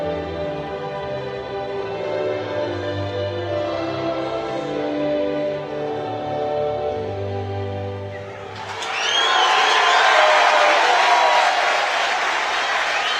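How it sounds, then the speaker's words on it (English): Large crowd at a women's league cup final between Nottingham Forest and Watford, a sustained low stadium murmur with music that swells into a loud, broad roar and cheering in the second half. "Nice to see a big crowd here"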